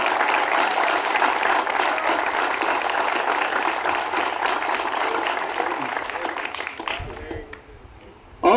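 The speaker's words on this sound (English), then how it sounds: "So a little round of applause for Vince Gallo" A room full of people applauds for a local honoree at a Fredonia baseball team proclamation, steady dense clapping for about seven seconds before it thins out and fades, with a few voices near the end.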